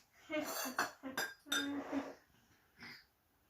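A spoon clinks against cups and dishes in a kitchen while stinging nettle soup and tea are made. Several close, bright clinks and rattles come in quick succession, followed by one more after a short pause.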